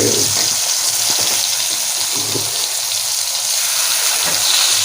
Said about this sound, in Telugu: అరటికాయలు కట్ చేసుకొని పెట్టుకున్నారు కదా, అవన్నీ అదే అవి వేస్తుంది ఫిష్ ఫ్రై లెక్క